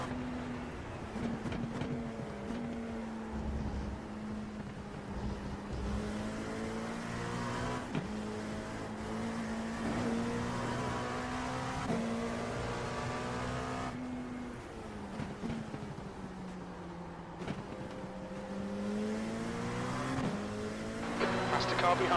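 Race car engine in a sim racing game at Spa during a six-hour endurance race, a steady high droning whine that rises through the gears with brief dips at shifts, running continuously while people talk.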